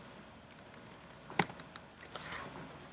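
Typing on a computer keyboard at a desk: a short run of light, irregular key clicks with one sharper keystroke in the middle, close and fairly quiet, with no talking.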